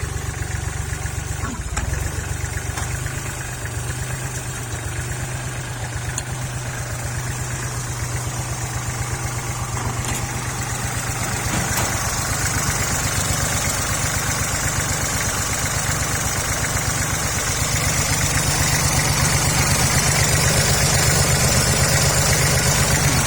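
A small walk-behind tractor engine idles steadily with a constant low rumbling chug and vibration, running unchanged for a long stretch with no voices.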